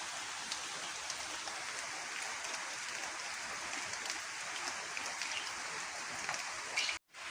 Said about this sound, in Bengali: যদিও বৃষ্টি হইতেছে তাও গরম আছে।